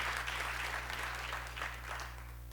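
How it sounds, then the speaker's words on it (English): An audience at an Albany State University education pinning ceremony applauds the graduating Kappa Delta Pi honor society members, steady sustained clapping from a crowd over a low electrical hum, no talking. "Please give a round of applause to the graduating members of Kappa Delta Pi International Honor Society"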